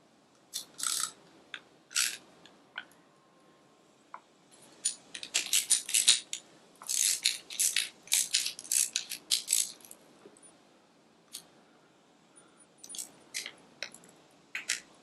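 A piston ring compressor is tightened onto a part, producing close, sharp metallic clicking and ratcheting in irregular bursts, with quiet gaps between clusters of clinks.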